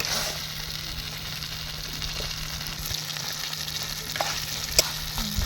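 Chicken pieces frying with spices and dry red chilli paste in a hot pan for rongali chicken, a steady close sizzle with faint stirring scrapes throughout.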